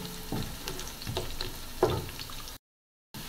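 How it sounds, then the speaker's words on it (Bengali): Peanuts and sliced onions sizzle in hot oil for chicken biryani, a close, steady crackle with a few scraping stirs, cut off by a short silence near the end. "বাদাম পেঁয়াজ সব ভাজা হয়েছে।"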